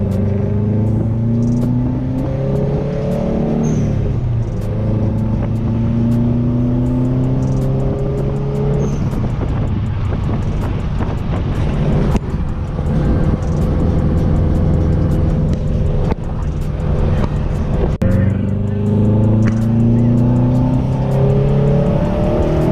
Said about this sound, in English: the car is running perfectly fine right now